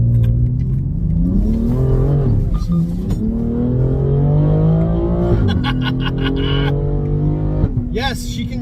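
Loud engine of a 2021 BMW X3 M Competition SUV burbling and revving as it accelerates onto a highway, rising and falling pitch sweeps with crackling bursts, with a person talking over it.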